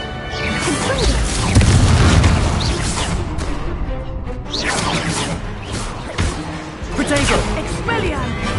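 Blasting spell explosions from a Confringo curse in Hogwarts Legacy combat, with heavy booms and crashes layered over dense battle noise and whooshes while voices call out over the fight.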